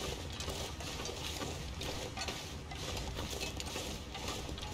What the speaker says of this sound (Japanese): 滝の音はしてる。